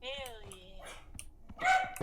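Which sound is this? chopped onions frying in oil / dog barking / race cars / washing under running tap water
dog barking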